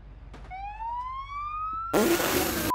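A police siren sweeps upward in a rising wail in a car-crash driving game, then a sudden loud crash of noise cuts in near the end, with sparse traffic sounds beforehand.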